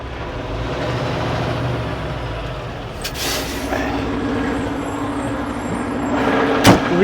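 A semi truck's large diesel engine idles with a low, steady rumble, broken by a brief hiss of air and a short clunk near the end.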